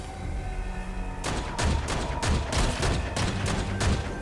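Gunfire in the 2D action game Foregone: a burst of repeated sharp shots in an uneven rapid rhythm, roughly eight close blasts over three seconds, layered over a steady game background bed.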